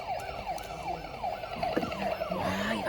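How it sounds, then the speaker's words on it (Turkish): A toy fire truck in a toy store sounds its electronic siren, a fast repeating wail cycling several times per second, fairly close and continuous with shop background noise beneath. "Ali Karan itfaiye arabası var burada"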